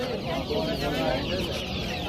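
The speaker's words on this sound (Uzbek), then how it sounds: "Bularchi qizil tovuqlar." Red hens at a poultry bazaar cluck in a dense, continuous chorus with no break. The fowl sound close and steady, and faint voices may sit under the flock.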